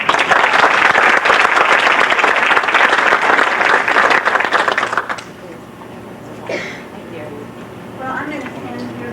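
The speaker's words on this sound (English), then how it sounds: "And we have a round of applause for Rita." An audience at a 1989 convention claps in loud, sustained applause for about five seconds before it fades out, after which quiet room noise and a few faint sounds remain.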